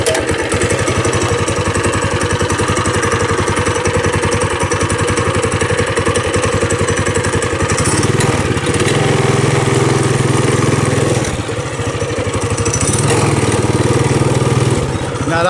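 A Trailmaster MB200x mini bike engine runs at a steady, loud idle with a rapid, even putter throughout, the tone deepening slightly partway through, and no talking over it.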